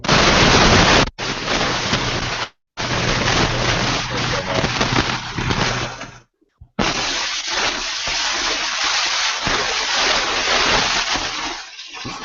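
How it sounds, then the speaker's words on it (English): A loud household toilet flushes in a rushing, splashing surge of water, cut by brief dropouts, then continues with gurgling, sloshing refill under faint background noise. "Hey, that's a loud toilet."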